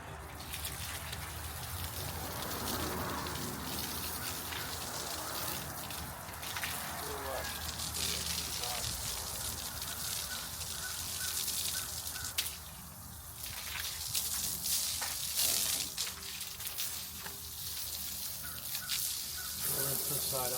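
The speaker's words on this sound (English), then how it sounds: "Rinse this side off and leave the other side." Candy rinsed under a running tap, a steady, close rush of water flowing without a break for the whole stretch, with faint splashing changes and a slight dip partway through.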